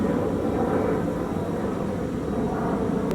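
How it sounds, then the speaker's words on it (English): A steady, broadband engine drone of an airplane passing overhead, constant and moderately loud throughout with no voices. "And now there's a plane."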